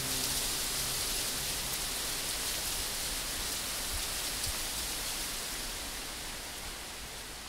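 Steady broadband rush of the Orcia River flowing through the Montalcino countryside in Tuscany, a continuous even wash of water with no voices, fading slightly toward the end.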